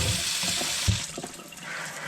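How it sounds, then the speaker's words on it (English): Cold water runs from a kitchen tap into a colander, a steady close splashing rush that keeps flowing with small clatters mixed in. "Turn the cold water on."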